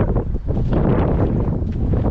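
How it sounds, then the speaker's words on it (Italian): Strong seaside wind at about 100 km/h blows near a pine grove and a parked camper in Sardinia, a loud continuous roaring buffeting against the microphone with no talk. "Guardate la potenza del vento a 100 km/h."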